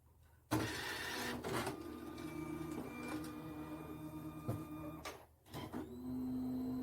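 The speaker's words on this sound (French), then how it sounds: "l'imprimante fait tourner les rouleaux d'entraînement dans le vide. Ils font du surplace sur la feutrine, imbibée d'alcool" An Evolis card printer whirs steadily as its drive rollers spin in place on alcohol-soaked felt, a close mechanical hum with faint rhythmic ticks, briefly pausing before the motor resumes.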